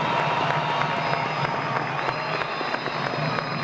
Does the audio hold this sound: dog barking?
no